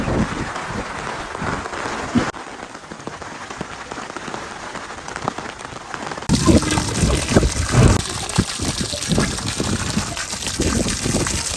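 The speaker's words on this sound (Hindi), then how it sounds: "बारिश आ रही है, चलो अंदर चलो।" Steady rain falls outside a family home, a dense, broadband hiss that grows noticeably louder and heavier partway through, with no one speaking.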